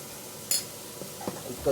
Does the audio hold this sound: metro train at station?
no